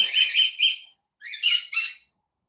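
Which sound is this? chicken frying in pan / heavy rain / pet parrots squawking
pet parrots squawking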